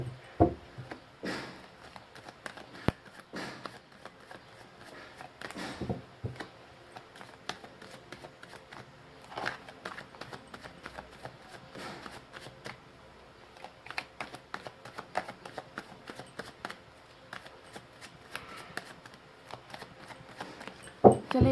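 Tarot cards are shuffled by hand in quiet bursts of soft riffling and flicking, with irregular clusters of light papery clicks separated by pauses, close and faint.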